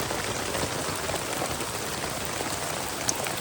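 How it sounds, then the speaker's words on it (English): Heavy rain pounding on a tent at an isolated hut site in southeastern Queensland, a dense, constant hiss and patter of drops that fills the whole stretch, loud and close with no voices. "It was raining that hard."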